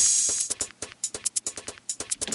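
Crisp hi-hat hits in an Ableton Live drum rack, set to zero stereo width, tick in a quick, uneven rhythm with sizzly cymbal wash, sounding narrow and centered, moderately quiet.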